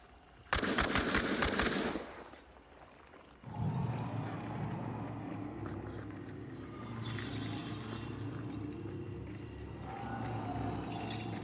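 Gunfire in the game Hunt: Showdown sounds as a quick burst of cracking shots for about a second and a half, then gives way to a low, steady rumble of game ambience.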